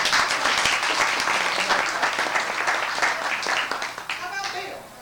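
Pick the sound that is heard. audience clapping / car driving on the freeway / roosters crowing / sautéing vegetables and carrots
audience clapping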